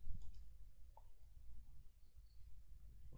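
Faint, sparse mouse clicks at a Windows 11 computer during a MySQL install, a sharp click near the start and another about a second later, over a low steady room hum.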